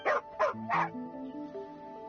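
A dog in the Genshin Impact video game gives three quick, sharp barks close up, followed by a soft trailing whimper over a quiet musical backdrop.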